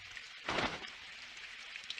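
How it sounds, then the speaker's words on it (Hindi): Steady rain hisses across the whole stretch in an animated cartoon scene, with a brief louder splash of rainfall midway and no voices. "ओ नहीं, काश ये बारिश जल्दी से रुक जाए।"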